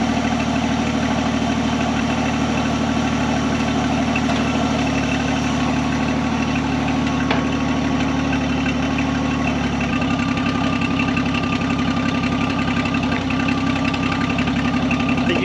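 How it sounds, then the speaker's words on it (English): A 1979 Jeep engine, abandoned for over 30 years, idles roughly with a knocking, vibrating low rumble that stays loud and constant, its tone shifting slightly partway through. "Running. I'm afraid to put my face too close to the radiator"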